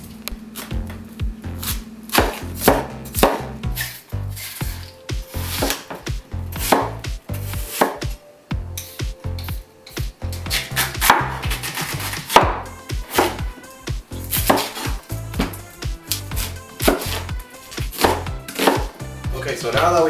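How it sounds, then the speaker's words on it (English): A knife chops onion, apple and pear for kimchi on a cutting board in quick, rhythmic bursts of sharp close-up thuds, with brief pauses between runs of strokes. "we need to peel our onion, apple, pear, and then we want to chop them up"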